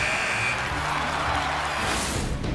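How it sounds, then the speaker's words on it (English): A hockey arena buzzer sounds to end the first period, a long steady electronic tone under the broad wash of arena crowd noise, then cutting off into the crowd's roar. "And with the buzzer, that puts a bow on the first 20 minutes of play"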